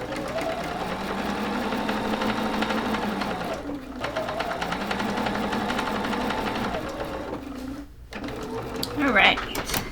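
A sewing machine stitches quilt block pieces in steady rapid runs, pausing briefly twice, with a person speaking over the whirring mechanism.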